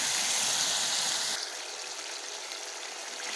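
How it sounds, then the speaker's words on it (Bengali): Water poured into a pot of goat tripe curry with tomato and potato, a steady broadband splashing rush that drops to a softer simmering trickle partway through, close and alone with no voices. "জলটা দিয়ে দিই।"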